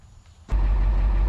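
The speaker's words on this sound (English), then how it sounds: "I got the truck running, hopefully it's not too bad on background noise" A 1980 Ford F700 rollback truck engine, quiet at first, then bursting into a loud, steady, low diesel-like running rumble that holds close and continuous to the end.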